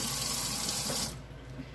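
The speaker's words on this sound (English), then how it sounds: "we're going to fill the pot" Tap water runs steadily into a pot of white rice in a home kitchen, a loud continuous hiss for about a second before the flow cuts off, leaving quiet room tone.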